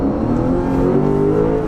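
A 2020 Lexus GS F's naturally aspirated V8 revving, a loud deep engine growl with a rising tone over under two seconds, heard close with no talk.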